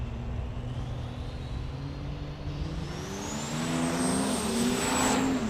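A diesel drag racing truck spools up at the start line, with a rising turbo whine climbing over a deep engine rumble that grows louder toward the end, close and without talk.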